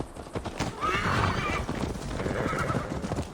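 Horse neighing and whinnying with clip-clopping hooves in the Viking-era game Assassin's Creed Valhalla, a steady whinny rising over continuous hoofbeats, close and fairly loud, with faint game ambience beneath.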